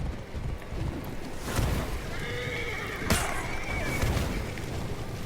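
A horse whinnies in the video game For Honor, a drawn-out neigh heard over windy outdoor noise and rumbling movement, with a sharp clash partway through.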